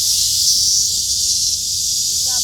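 A large cicada (말매미) clutched in the hand keeps up a loud, steady, hissing buzz from start to finish, close by, with a faint rattle near the end.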